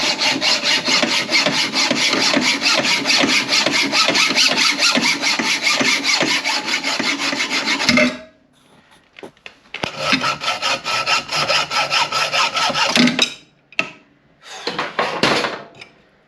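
A drill bores out the old bolts on a Ford Transit camper's handbrake to fit a Scopema lowering kit. It gives a loud, continuous metal grinding for about eight seconds, then stops and returns in shorter bursts.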